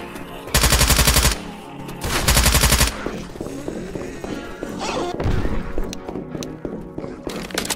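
Rifle fire in Left 4 Dead 2 comes as two long, loud sustained bursts of rapid shots, followed by quieter game noise with scattered impacts and thuds.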